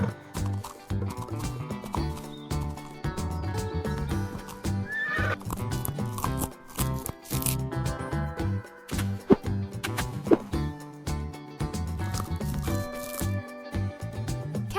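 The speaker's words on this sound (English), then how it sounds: "Horses communicate with neighs and ear movements." A horse neighing and whinnying over steady clip-clopping hooves, with continuous music playing throughout at similar loudness.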